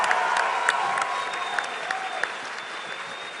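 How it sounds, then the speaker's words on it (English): At the QuakeCon 2013 Quake Live grand final, an arena crowd applauds the players with a steady wash of clapping, scattered whistles and cheers, gradually fading slightly. "Give these guys one more round of applause."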